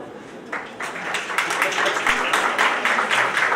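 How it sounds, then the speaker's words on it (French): An audience at a Tunisian digital marketing and e-commerce event claps on request for the advertisers, scattered hands growing into steady, moderately loud applause with voices mixed in. "Mais s'il vous plaît je vous demande d'applaudir parce que c'est important les annonceurs."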